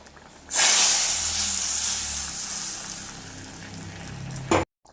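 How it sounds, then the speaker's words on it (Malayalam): A mustard seed tempering hits a curry of ash gourd with a sudden loud hissing sizzle that bursts in close by, then slowly fades over several seconds before cutting off abruptly. "കടു താളിച്ചത് ഇതിലേക്ക് ചേർത്ത് കൊടുക്കുകയാണ് ഞാൻ"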